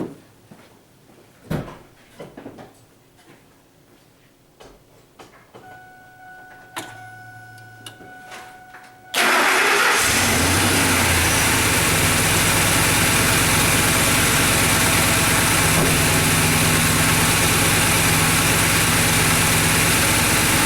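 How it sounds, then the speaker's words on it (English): A 2003 Ford F150 with the 5.4 liter Triton engine, just fitted with new spark plugs, is started after nine seconds of quiet clicks and rattles, then idles loudly and steadily for the remaining eleven seconds. "2003 F150 spark plug change out is complete. Time to fire it up."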